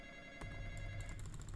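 A telephone rings inside a Roblox Five Nights at Freddy's style game, a soft electronic ring starting abruptly and continuing with rapid trilling pulses, faint under low game background noise.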